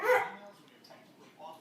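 A puppy, left behind and excited, lets out one short sharp bark at the start, followed by faint whimpering yips, close and fairly quiet.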